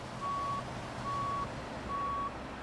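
A Mack Ultraliner in American Truck Simulator sounds its reversing alarm: three evenly spaced, clear electronic beeps, each about half a second long, over a low engine rumble.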